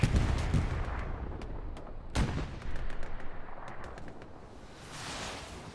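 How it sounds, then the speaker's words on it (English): Artillery rockets fire in a competitive online war game on the Utah map: a dense, rumbling barrage of booms and cracks, with one sharp near blast midway and a fading roll at the end. "There go those rockets again."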